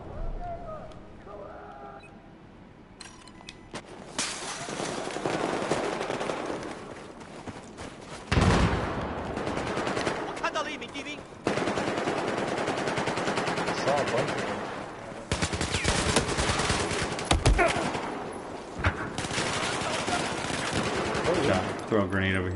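Gunfire in the video game Battlefield 4, with loud bursts of automatic fire and single shots coming in several clusters. Quieter background game sounds run between the bursts.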